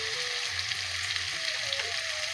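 Chicken meat and liver sauté in a pan with a steady, bright sizzle, close and continuous, with faint stirring scrapes and no talking.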